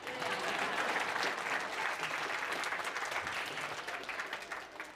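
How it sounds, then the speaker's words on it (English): An audience applauds a yo-yo performer's rock-the-baby trick in a rotunda, steady dense clapping from many hands that stays loud for about five seconds and tapers slightly at the end. "Usually people clap for this one."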